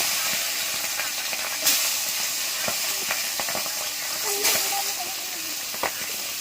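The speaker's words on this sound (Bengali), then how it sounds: "এখন আমি মাছ ভাজা করব, মানে করতেছি" Fish frying in a pan for a home lunch gives off a steady broad hiss of spattering oil, broken by a few brief louder pops and clatters.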